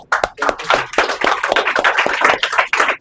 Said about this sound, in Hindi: मेरी तालियां हैं